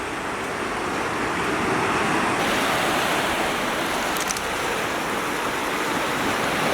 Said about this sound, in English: Are these waves tiny? Yes. Yes, they're very tiny.